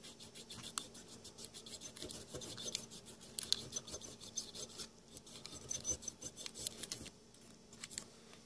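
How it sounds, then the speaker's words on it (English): Fine 2000-grit sandpaper rubs the burned switch contacts of a vintage Marantz 2245 or 2270 receiver, giving a quiet, close, steady rasping scratch in quick repeated strokes with no talking. "I'm just going to take our sandpaper. This is a 2000 grit, and I'm just going to resurface it."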